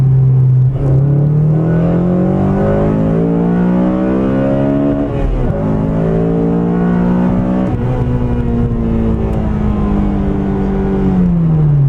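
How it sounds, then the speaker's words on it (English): A Honda Civic Si engine, naturally aspirated, revs hard and climbs steadily in pitch toward its raised rev limit, drops briefly, then winds up again, loud and continuous with no talking. "the rev limit's actually been increased to a higher red line, and here, I'll show you here"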